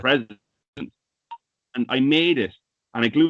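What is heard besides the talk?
mobile phone beeping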